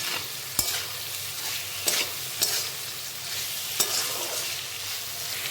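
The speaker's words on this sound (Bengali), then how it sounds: "এর মধ্যে দিয়ে দিচ্ছি কেটে রাখা গাজর আর ক্যাপসিকাম।" Carrots and capsicum are stir-fried in a hot pan for restaurant-style mixed fried rice: a steady, close sizzle with several sharp scraping clicks from the stirring, and no voices.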